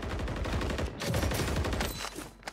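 Dense, sustained gunfire from Warzone 3 in the Vondel Park map, several weapons overlapping in a continuous rattling barrage with a brief lull near the middle.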